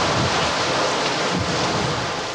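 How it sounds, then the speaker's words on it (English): Storm waves break on the coast during violent winds, a dense continuous roar of surf and wind buffeting, loud and unbroken, with no voices. "Huge waves broke down seawalls."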